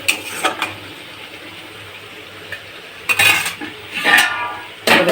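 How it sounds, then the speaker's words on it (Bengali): A lid is set onto a cooking pot of whole mango simmering for a Bengali sweet-sour fish dish, giving several sharp metallic clanks and rattles close by, with a quieter pot clink early on and no talking. "এবার আমি একটু ঢাকা দিয়ে দেবো।"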